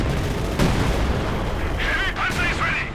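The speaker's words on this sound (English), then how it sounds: "Ostrom squad just getting torn apart here by the rockets being unleashed here by the Katyusha" Katyusha rocket artillery firing in the Company of Heroes 2 video game, with a sharp boom followed by rumbling blasts and whooshing rocket streaks, while a commentator talks excitedly over the battle noise.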